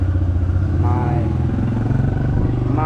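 Dirt bike engine runs loudly up close while warming up, with a rough steady low rumble and uneven revving, and a voice talks over it.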